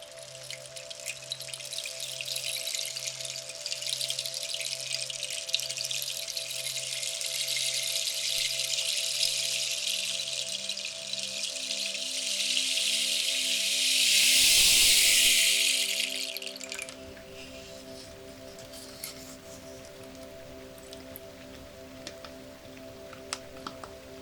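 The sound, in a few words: rain stick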